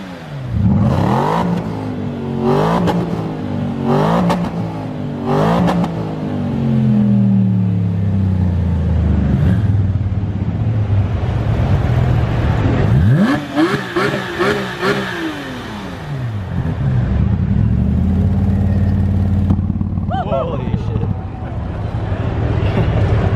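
Porsche GT3 RS and Aston Martin engines trade repeated loud revs in a rev battle, sharp rising and falling blips stacking up, then sustained high revving, close and dominant throughout.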